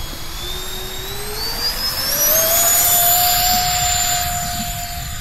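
A small RC Habu SS 70mm electric ducted-fan jet flies by with a steady whine that rises in pitch as it speeds up and passes close, above outdoor background noise and with no talk.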